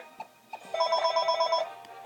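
A mobile phone rings with a bright, warbling electronic tone, preceded by a couple of soft taps, the ringing lasting about a second.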